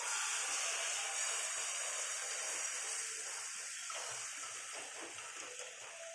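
Egg batter is poured into a preheated pan, giving a steady, close hiss that tapers slightly toward the end, with no talking.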